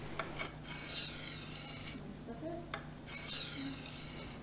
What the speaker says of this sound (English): If the edge is dull, start sharpening on a medium stone.